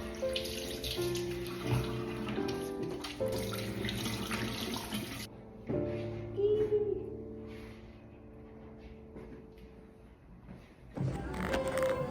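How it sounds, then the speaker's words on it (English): Water pours from a tap into a sink while hands are washed, a steady close splashing that cuts off midway and then starts again briefly near the end, with no talk. "I'm gonna wash my hands."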